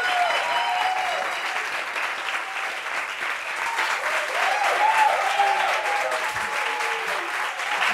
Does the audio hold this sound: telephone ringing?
no